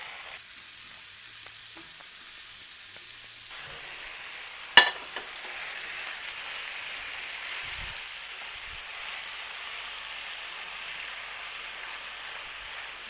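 Spring onion flower stalks fry in a pan with salt, a steady soft sizzle that grows louder after a sharp clink of a utensil partway through, then continues evenly with faint stirring, no voices.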